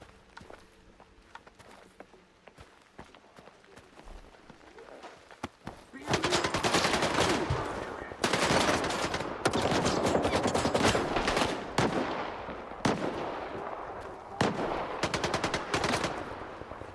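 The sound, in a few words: gunfire in the video game S.T.A.L.K.E.R. 2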